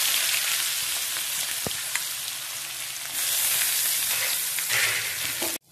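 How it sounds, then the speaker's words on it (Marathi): Chopped onion frying in hot oil with mustard seeds, cumin, curry leaves, garlic and green chilli, a steady loud crackling sizzle throughout with occasional stirring scrapes. "कांदा छान आपण परतून घ्यायचा"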